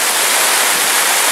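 Steady, dense rush of falling water at the Çaylak and Suuçtu waterfalls in Bursa, a continuous close roar with no pauses and no voices.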